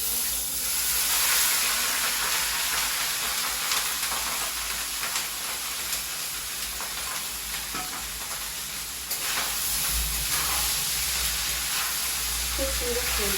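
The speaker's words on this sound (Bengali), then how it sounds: "এবার আমি রাইসটা দিয়ে দিচ্ছি।" Rice tipped into a hot pot for jeera rice sets off a loud, steady sizzle and hiss of frying that runs throughout, with faint stirring underneath.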